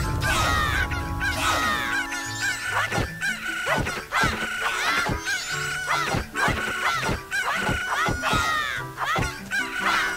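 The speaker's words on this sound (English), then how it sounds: "And the chickens attack you." Chickens cluck and squawk in the game Zelda: Majora's Mask as a flock attacks the player, with repeated sharp clucks and crowing-like calls over game music, loud and busy throughout.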